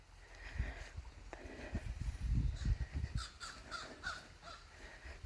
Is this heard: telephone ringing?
no